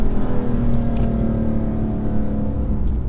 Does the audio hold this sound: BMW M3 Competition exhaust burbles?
yes